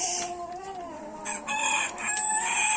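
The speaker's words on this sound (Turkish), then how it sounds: "Burada Amerikan horozumuz bütün heybetiyle duruyor." An American rooster crows with a long, loud cock-a-doodle-doo, its harmonic call rising and holding, followed by a few clucks nearby.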